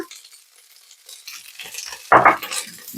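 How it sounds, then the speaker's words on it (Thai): Shrimp-paste fried rice with mackerel, stink beans and sliced scallions is stir-fried in a pan, with soft sizzling and shuffling, then a loud, brief scraping burst of the spatula near the end. "ผัดเร็วๆอีกรอบค่ะ"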